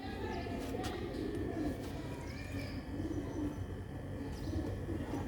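Sialkoti pigeons cooing softly in repeated low burbling calls, with faint chirps from other birds mixed into a steady background.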